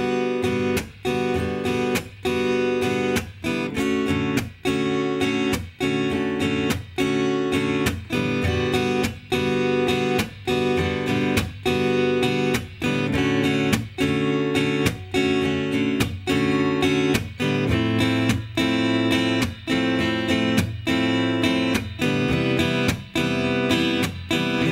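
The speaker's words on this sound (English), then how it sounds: "a kind of cool little practice progression using major seventh chords" An acoustic guitar strums a repeating major seventh chord progression in a steady rhythmic pattern with accented strokes, full and continuous for about twenty-five seconds, played alone without talking.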